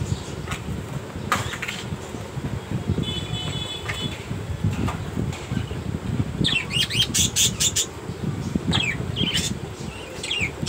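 Caged pet birds on a home balcony, a mother bird calling to her chicks, give loud repeated squawks and sharp chirps in irregular bursts, close up with no talk.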